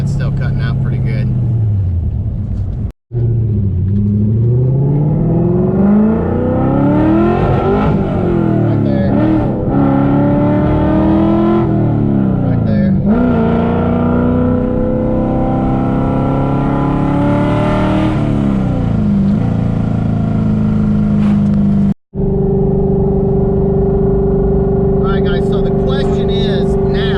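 A car engine with a different intake revs up and down repeatedly, the pitch sweeping high and low, and twice drops out abruptly as the engine cuts out before catching again; loud and close, with no talk.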